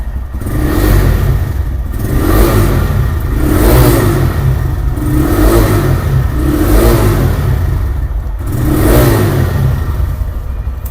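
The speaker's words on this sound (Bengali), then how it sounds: "তো আমরা একটু রেইডারের সাউন্ডটা শুনি" A TVS Raider motorcycle engine revs repeatedly, about five loud rising-and-falling pulses over a steady running note, heard up close with no talking.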